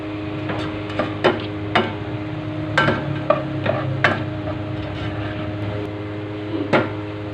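Salmon belly sinigang stirred in a pot, a string of sharp scraping clinks from a utensil against the pot, irregular and close, over a low steady background hum.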